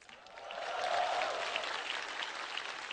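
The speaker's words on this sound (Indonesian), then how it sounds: "Beri tepuk tangan dulu untuk Metro TV ya." Audience applause at a New Year stand-up comedy show, a broad wash of clapping that swells after the first half second and holds steady throughout.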